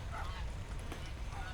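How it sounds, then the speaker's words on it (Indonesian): A goose honks repeatedly in the game Unhuman, loud, harsh calls close by over a dense, noisy background. "bukan bebek, itu soang"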